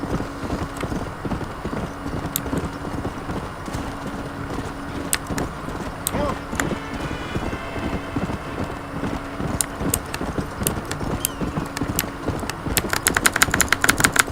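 Horse hooves clip-clop at a steady gallop in the Western open-world game Red Dead Redemption, a continuous rhythmic beat under ambient wind and a brief whinny, with sharp gunshot-like cracks near the end.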